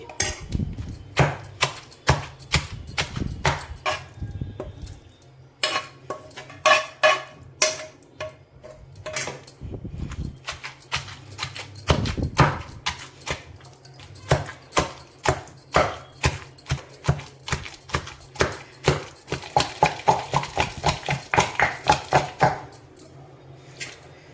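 Repeated pounding of ridge gourd and mint chutney with tomato in a stone mortar, steady rhythmic knocks and scraping grinds, fairly close and sharp, continuing without talk.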